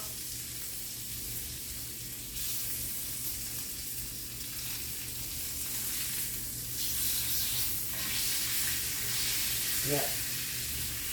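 Meat browning in a hot pan on the stovetop, a steady faint sizzle and hiss of frying that runs throughout, with a brief clink of utensils near the end.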